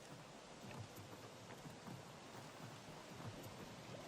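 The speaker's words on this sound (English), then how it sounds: "here comes the rain." A steady, soft rain hisses in Don't Starve: Shipwrecked, an even wash of dense patter with faint low rumbles, quiet and unbroken, no voices.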